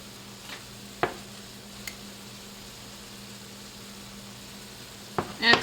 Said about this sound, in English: So my hamburger is browning up and I'm just going to hit it with some salt and pepper